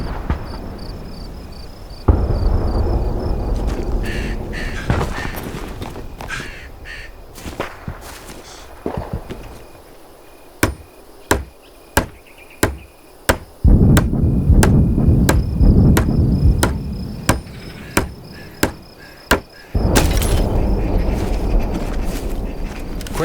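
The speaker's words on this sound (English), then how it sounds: "Use the hammer in your loadout to finish constructing it." In Hell Let Loose: Vietnam, a hammer strikes a barricade under construction in a series of sharp, evenly spaced knocks, with steady outdoor game ambience running beneath.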